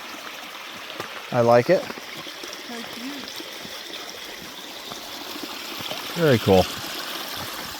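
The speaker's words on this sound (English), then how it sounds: "Look at this spot here, this cute little stream / waterfall." A small stream and waterfall on the Perseverance Trail near Juneau, Alaska, give a steady, soft rush of running water throughout, with a person briefly talking over it twice.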